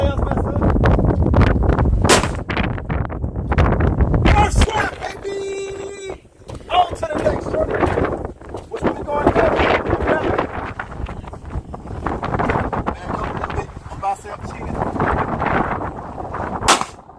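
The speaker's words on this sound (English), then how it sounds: "we're using the same gun, the Canon SFX." Outdoor shots from a Canon SFX pistol at water jug targets crack sharply a few times through heavy wind buffeting on the microphone, while people talk loudly throughout.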